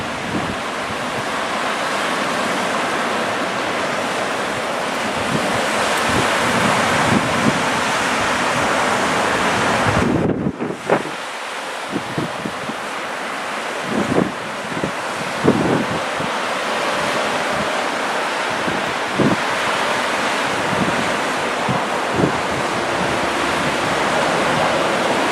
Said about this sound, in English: just the crashing waves, windy day, and the sea